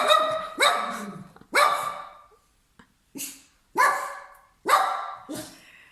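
Dog barking in a series of six loud, close barks, two quick ones, a pause, then four more, with short gaps and no talk.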